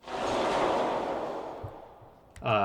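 Processed explosion impact built from shower curtain recordings, a broad roaring burst that swells and slowly fades over two seconds, followed by a sudden brighter hit near the end.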